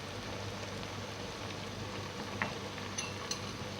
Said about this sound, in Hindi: देखिए हमारी दाल और मेथी भून रही है।